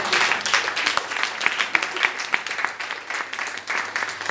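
A church congregation claps and applauds during a thanksgiving service, with sharp individual hand claps standing out from a lively, sustained round of applause.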